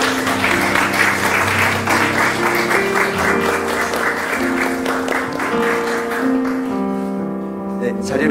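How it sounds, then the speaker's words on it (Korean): A church congregation applauds during an ordination service at a sixth-anniversary worship, with steady sustained clapping over instrumental music that carries on as the applause thins toward the end. "여러분 큰 박수로 축하해 주시기 바랍니다."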